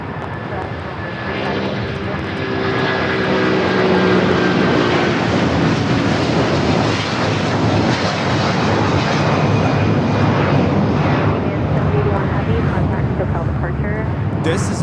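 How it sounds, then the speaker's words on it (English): An Avianca Cargo Airbus A330-300 converted freighter takes off at Los Angeles LAX, its engines building to a loud, sustained roar that holds steady, with a person speaking over it. "This is Avianca Cargo 7081 taking off to Mexico City on the A330-300 converted freighter."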